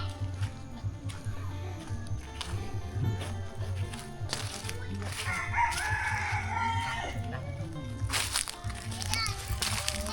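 Roosters crow repeatedly in a hill-tribe village set among large mountains, their calls rising over one another against a busy background of children's voices and people talking.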